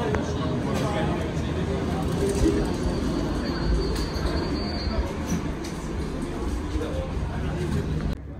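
Rumbling noise as the Roosevelt Island aerial tram rolls in, settles and opens its doors, with steady mechanical hum and faint squeals throughout; voices murmur in the background.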